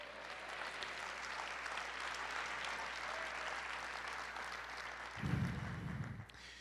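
A church congregation claps in steady, sustained applause for several seconds, moderately distant and even, with a brief low murmur near the end.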